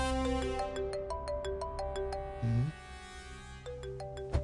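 A mobile phone ringtone plays a bright electronic melody of quick repeated tones, fairly faint, with a brief low murmur partway through.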